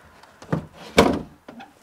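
A wooden cabinet drawer in an abandoned mansion is pushed shut, giving a couple of soft knocks and then one firm, close thunk, followed by a lighter rattle.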